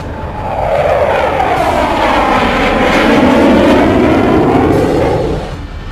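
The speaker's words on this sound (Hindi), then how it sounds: "ग्लोब मास्टर की गर्जना।" Loud, sustained roar of a Globemaster military transport aircraft arriving to land at Leh, a broad jet-engine rumble swelling in over the first second and holding steady throughout.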